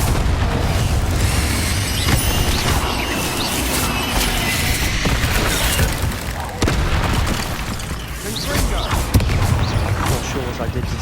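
Confringo fire spells burst in the Hogwarts Legacy video game, giving a dense run of booming explosions and crackling impacts, loud and continuous, mixed with game effects.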